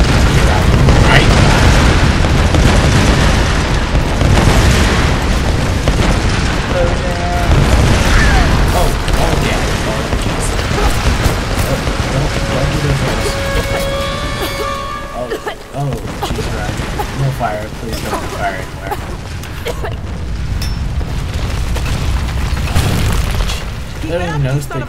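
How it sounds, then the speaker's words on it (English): Loud, dense explosions rumble and boom in the video game Tomb Raider, with continuous blasts and debris crashing for most of the stretch, then fading briefly before more rumbling resumes. "Explosions."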